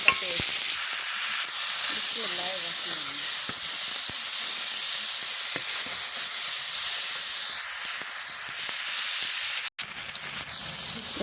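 Tomato paste hits hot oil with light-brown fried onions and garlic, sizzling and hissing steadily and up close for the whole stretch, with occasional stirring scrapes and a brief break near the end.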